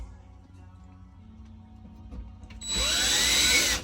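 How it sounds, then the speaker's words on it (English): Quiet scraping and handling give way to a loud power drill with a hole saw whining as it bites through plywood, insulation and cargo trailer roof for about a second before stopping. "I'm having to use a hole saw to go through a pretty thick material"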